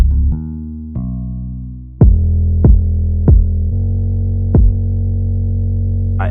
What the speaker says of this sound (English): And then we have the kick, and it sounds like this.